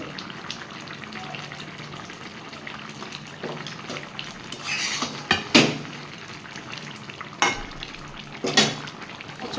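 Chicken simmering with winter vegetables and new potatoes on a gas stove as garam masala goes in, a low steady sizzle and bubble with a few sharp utensil clinks against the pot.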